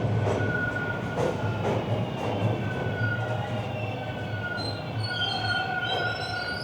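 A Toronto subway train rolls steadily from Kennedy Station with a continuous loud rumble, wheels squealing in long thin tones and rhythmic track clatter throughout, with no voices.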